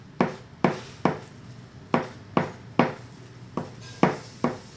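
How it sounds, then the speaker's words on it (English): A knife chops Chinese chives into a fine mince for garnish on an o-toro tuna chirashi bowl, about ten crisp, evenly spaced board knocks ringing out up close with no talk. "These are Chinese chives. I'll cut just a little bit. Just barely mince a little bit."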